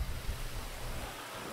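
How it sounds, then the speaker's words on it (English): Steady rain in a GTA game, a soft even hiss with a low rumbling bed, continuous and fairly faint throughout. "It might be a little rainy outside."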